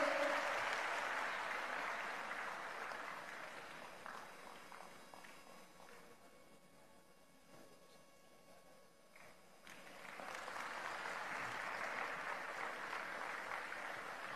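An audience at a community foundation-stone ceremony in Gujarat applauds to welcome the chairman, a broad continuous clapping wash that dips and thins midway, then swells back up, heard from some distance with a hollow room tone.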